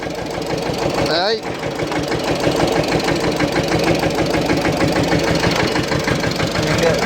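A small diesel farm tractor idles nearby with a loud, steady, evenly pulsing chug that keeps going throughout, while a person talks over it.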